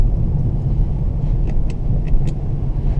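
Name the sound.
BMW E60 5 Series diesel driving, quiet cabin noise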